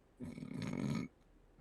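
A person imitates gentle snoring with one soft, rasping, drawn-out snore of about a second, quiet and close with a rough, throaty texture.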